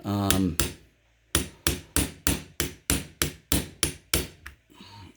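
A hammer lightly tapping an XS Big Dot sight into place on an LC9s pistol: about ten sharp, evenly spaced taps, close and loud, with pauses between them and no talking.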